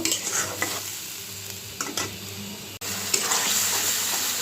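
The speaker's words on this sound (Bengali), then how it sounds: "মশলাটা আমি দিয়ে এক একটু কষিয়ে তারপর মাংস আলুটা দিয়ে দিব" Onions and spices frying and being stirred in a pan for a meat and potato curry, giving a loud, close, continuous sizzle with scraping stirs and a brief break partway through.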